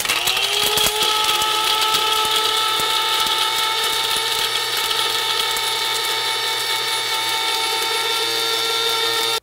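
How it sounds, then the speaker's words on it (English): An electric spice grinder whirs through rose hips and spices for chocolate-making, a loud, steady, rattling buzz heard alone that runs continuously and cuts off right at the end. "So we just ground our herbs and spices, and they're gonna go into the chocolate in a moment."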